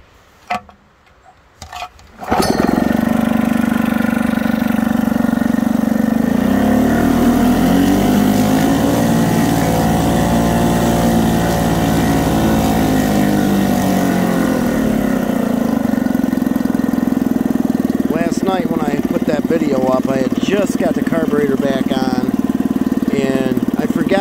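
A 1952 Elgin 2hp air-cooled outboard engine starts with a pull and runs steadily in a test tank, a loud buzzing drone with slight speed changes, a voice talking faintly over it.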